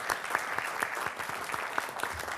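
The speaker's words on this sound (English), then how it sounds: "I want to give them a big round of applause." Audience at a county board of supervisors meeting claps for youth volunteers, a steady, fairly close round of applause with crisp individual claps, sustained for the whole clip without talking.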